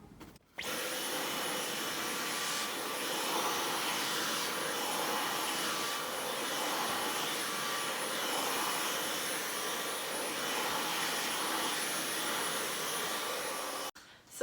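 A Dyson V11 cordless vacuum with its double accessory fitted switches on into a constant, close, rushing whine, running evenly for around thirteen seconds before cutting off abruptly.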